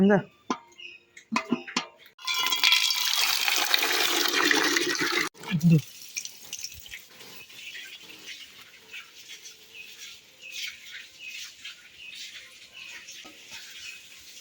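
Water pours and splashes over a surface for a few seconds after some brief knocks, washing off moss, then a quieter scrubbing and dripping follows with faint voices.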